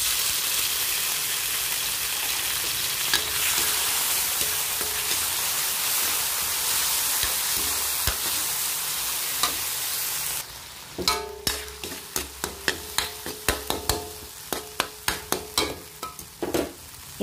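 Corned beef hisses loudly in a pan with browned onions, a dense sizzle that runs throughout. Partway through, sharp scraping stirs break in, clicking repeatedly against the pan.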